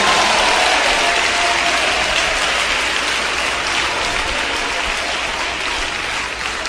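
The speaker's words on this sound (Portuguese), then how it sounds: "Mais palmas para louvar a Jesus." A church congregation claps in praise during a worship service, a dense and loud wall of sustained applause that holds steady throughout with no break.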